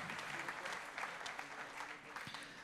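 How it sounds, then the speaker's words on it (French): Audience at a regional economic forum applauds; steady, distant clapping of a modest crowd, fairly faint and continuous for a few seconds. "qui vont repartir encore sous les applaudissements"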